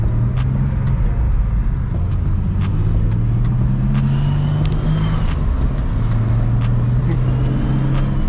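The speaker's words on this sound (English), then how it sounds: "You can hear the turbo still, but no more exhaust." A turbocharged Infiniti G37 cruises with its exhaust valve closed, a steady muted engine drone with a rising and falling tone and a faint turbo whine, heard continuously from inside the car.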